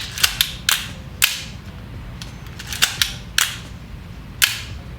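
Film camera shutter fired repeatedly at different speeds, a series of sharp mechanical clicks and snaps spaced unevenly across the span, some doubled, each crisp and close against a low background hum.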